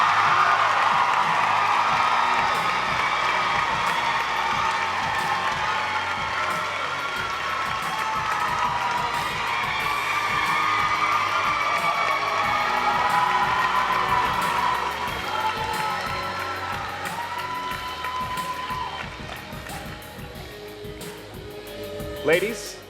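Crowd cheering and applause at the Miss Arkansas 2018 pageant for the top 10, a roaring mix of clapping and shouts with music and voices underneath, tapering near the end.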